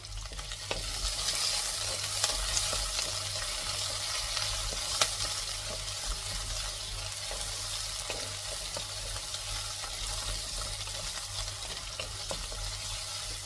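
Onions sautéing in a pan with rock salt sizzle steadily throughout, with occasional scraping stirs over a constant frying hiss and no talking.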